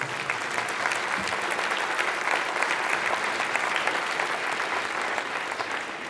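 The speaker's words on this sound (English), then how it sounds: "I think that deserves a round of applause." Sustained audience applause fills a convention panel room for a Friday the 13th Jason Voorhees panel, steady dense clapping throughout with a faint crowd murmur underneath.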